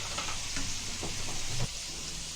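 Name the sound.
onions sizzling while frying in pan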